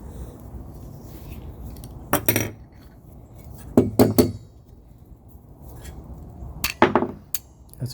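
Channellock 10 inch curved jaw locking pliers are clamped and released, giving sharp metallic clicks and snaps in three separate clusters at close range against a quiet background, with no talk.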